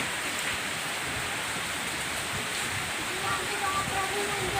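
Heavy midday rain pours down on a village in Simeulue, Aceh, a steady dense hiss lasting throughout at close range, with no voices over it.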